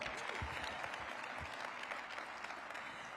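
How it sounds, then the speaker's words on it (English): A crowd at the Standing Ovation for DC Public Schools ceremony honoring educators gives steady applause, faint and somewhat distant, a continuous wash of clapping with no talk over it. "Give them a big round of applause."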